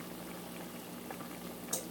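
Collard greens boiling in a pot on a stovetop at medium heat, a steady close bubbling and simmering hiss with one brief brighter pop near the end, no talk.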